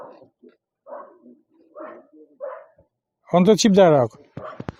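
A village dog barks in several short, sharp bursts with pauses between, fairly close, followed by someone speaking briefly and a few more yips at the end.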